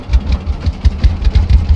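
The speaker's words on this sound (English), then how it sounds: "What we're going to do is hop onto the tractor" A tractor engine idles in the farming game Farmer's Dynasty, a loud, close, low throbbing with a steady pulsing beat and no voices.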